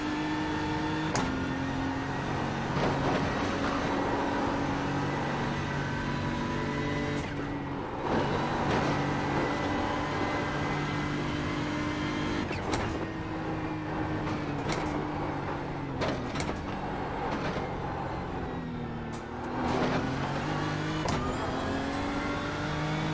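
Race car engine at the Bathurst 12 Hour, a loud continuous in-car drone with pitch rising and falling through gear changes and repeated revs, steady throughout with no talk.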